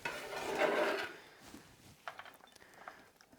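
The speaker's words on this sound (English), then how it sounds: "I'm going to cut up some cabbage to go with that as well" A knife cuts through cabbage during kitchen meal prep: a soft, crunchy rasping stroke, then a scatter of light taps on the board, all quiet and close.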